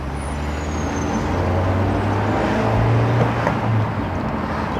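Honda S2000 roadster pulling away, a steady loud low engine drone and rumble with road noise, no voices.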